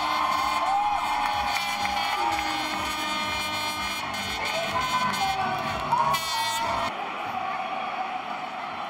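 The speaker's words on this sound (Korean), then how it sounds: "스페인 응원단이 나팔 소리와 국기를 흔들어대며 환호하는 반면" Spanish football fans packed into a town square in Luxembourg cheer and whoop loudly, with brassy trumpet-horn blasts cutting through the steady crowd roar.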